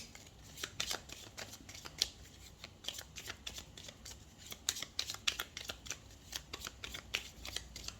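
Tzigane oracle cards shuffled by hand, producing a continuous patter of sharp papery flicks and riffles at an uneven quick pace, close up and soft, heard alone without talk.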